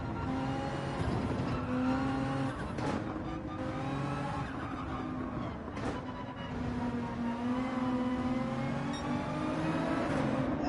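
Porsche and Ferrari race cars in Gran Turismo 7 qualifying, with loud, sustained engine drone that rises and falls in pitch through gear changes, plus brief bursts of tire squeal.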